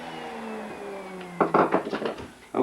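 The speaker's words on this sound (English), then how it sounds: "use my left hand to push the jig and router through to the end of the cut" A woodworking router cuts a rabbet in wood while pushed along a jig: a steady motor whine carries a falling pitch, then rough, bursty cutting noise in the second half, fairly close.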